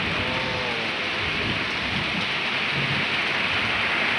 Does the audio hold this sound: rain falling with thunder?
yes